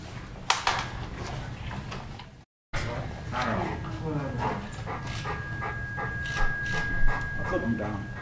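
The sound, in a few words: dog barking and whimpering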